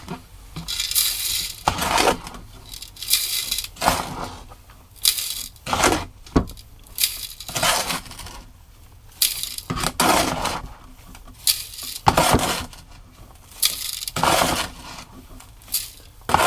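Gravel and stones sifted through a quarter-inch screen pan, giving repeated loud rattling, clinking shakes in uneven bursts with short pauses between them, close up and with no talk.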